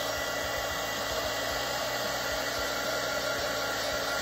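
A heat gun blows steadily while warming an Axiom Armor back skin around a phone's camera lens. The hot-air whir is constant and fairly quiet, with no talking.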